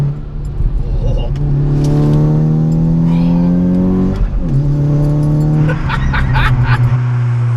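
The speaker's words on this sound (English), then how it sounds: "Exhaust system, singing the symphony of B roads at 7 o'clock in the morning today on a Sunday." A 414 bhp Mk6 VW Golf R hot hatch with a six-speed manual and four-wheel drive, heard from inside as its exhaust drones loudly through steady acceleration, a brief dip around a gear change, then the engine note rising again with crackles.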